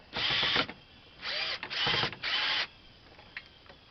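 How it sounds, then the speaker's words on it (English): A power drill driving machine-screw bolts back into their holes on a lifted arm, running in four loud bursts of about half a second to a second each, then stopping. "now that it's in the hole, we use the drill"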